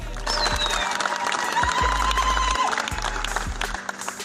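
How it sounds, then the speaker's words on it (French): Crowd acclaiming at the close of a meeting, continuous applause and cheering with raised voices, a low hum running beneath. "la réunion se termine en toute beauté par les acclamations."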